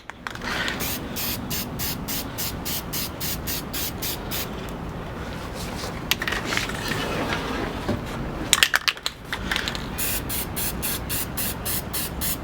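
Krylon Satin Touch spray paint hissing from a can onto a sanded plastic airsoft amplifier, in a series of short bursts with a longer steady spray and a few clicks, close up.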